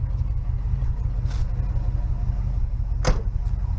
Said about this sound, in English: you can listen to it burble away a little bit.